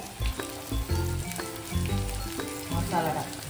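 Half-cooked onion sizzles steadily in a pan as turmeric goes in for a tiny-shrimp kolim onion dish, with a continuous close frying hiss broken by rhythmic spoon scrapes and stirring clatter.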